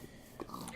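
A single short pig oink from the Minecraft video game, quiet and brief, sounding on a farm homestead among crops and other animals.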